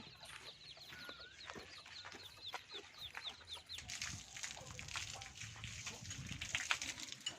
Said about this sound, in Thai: โอ้โหมีไก่น้อยด้วย